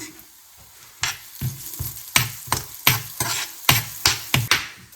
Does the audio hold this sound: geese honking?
no